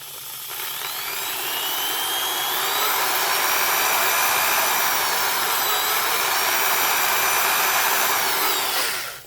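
A Ridgid 3/8 inch variable-speed reversible utility drill spins a small 1/8 inch reamer, whirring up to a loud, steady high-pitched whine close by, then cutting off at the end.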